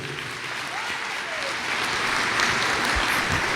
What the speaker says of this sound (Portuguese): Aplaude essa palavra então.